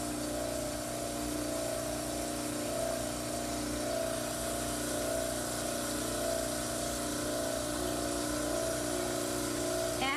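Dental model trimmer running as a mandibular cast is ground flat, a continuous motor hum with a watery, grinding hiss, steady and close throughout.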